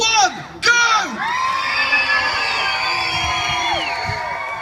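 Crowd at the Rochdale Christmas light switch-on in 2013 erupts in loud cheering, whoops and children's shrieks, a dense sustained roar of many voices close by with sharp bursts near the start.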